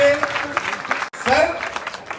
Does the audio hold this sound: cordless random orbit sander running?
no